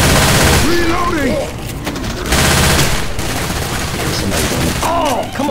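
Dense bursts of rapid gunfire rattle loudly in Left 4 Dead 2 versus play in the Dead Centre campaign, with brief lulls between volleys and voices shouting faintly beneath.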